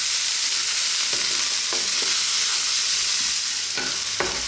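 Small-chopped onions frying over high heat for mushroom fried rice, a constant loud sizzle broken by several scraping stirs of the pan, close up and with no speech.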